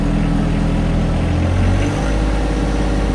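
The engine of a John Deere 1025R compact tractor runs at 1800 RPM, a loud, steady, close-up drone with a low rumble that holds throughout.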